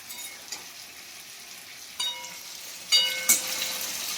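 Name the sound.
paneer frying in a pan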